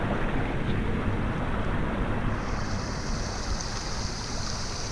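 Steady rushing water pours continuously, a loud broadband roar like a nearby spillway, with no voices.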